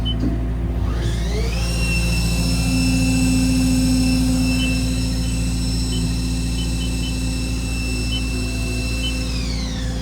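Haas ST-30 CNC lathe spindle spinning up to 2,000 RPM, a steady loud mechanical hum with a rising whine that settles into sustained high tones, running continuously without speech.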